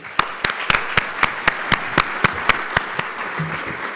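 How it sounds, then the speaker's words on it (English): A crowd claps steadily, with sharp individual claps standing out at an even rhythm over a softer wash of applause. "Please give them a round of applause."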